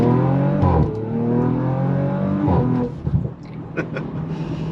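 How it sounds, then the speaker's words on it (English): Stage 2 tuned car making about 585 horsepower, its exhaust revving up and down in loud, close bursts with a rising and falling engine note and no talk over it. "You guys want to hear this exhaust?"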